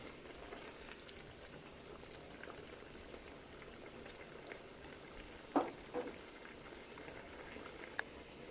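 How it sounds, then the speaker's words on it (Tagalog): Pork adobo simmering in soy sauce and vinegar, a steady low bubbling boil with a few faint clicks, heard alone at low volume. "Pakukuluan ko lang muna siya sa toyo at saka suka para yung manunuot sa kaloob-looban."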